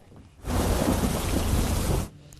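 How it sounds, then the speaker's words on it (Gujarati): Heavy monsoon rain roars in suddenly, a dense steady downpour lasting a couple of seconds before cutting off, with no voices. "આજે ચોથા દિવસે વરસાદ વરસ્યો"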